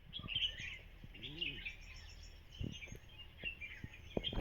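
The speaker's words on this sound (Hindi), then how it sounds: "काफ़ी प्यारे प्यारे से पक्षी यहाँ पे आने लग गए हैं, जिनकी आवाज़ काफ़ी प्यारी प्यारी सी सुनाई दे रही है" Small birds chirp and sing repeatedly around a hillside cowshed in the morning, a continuous bright twittering with a few louder calls, mixed with faint background activity and occasional low thumps.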